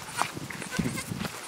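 Goat being trained on a farm, a few short bleats amid steady rustling background noise, moderately close.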